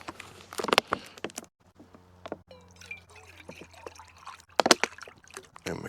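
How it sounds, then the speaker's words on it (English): Water poured into a cup outdoors on sloping ground, with splashing, trickling bursts and drips separated by quiet pauses, fairly close and moderately loud. "I'm just going to put enough water and then a little bit more"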